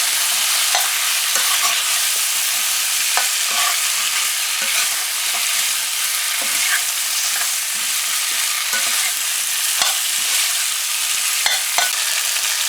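Eddo and sijan drumstick curry frying in a pan during bhuna, with a steady loud sizzle and repeated scraping stirs throughout, no voices.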